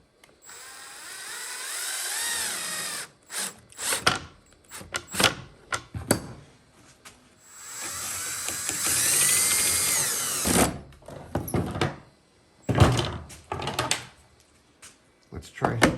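Power drill driving 1 5/8 inch deck screws into a scrap of plywood, in several whirring bursts of varying length separated by pauses, with someone talking in between.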